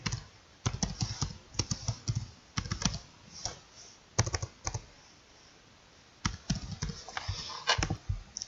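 Keys clack on a computer keyboard while a sheet name is typed in Excel, coming in several quick bursts of close, crisp clicks separated by brief pauses, with no talking.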